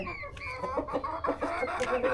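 Brahma hens cluck in a short, busy run of calls, several birds close by with no talk over them.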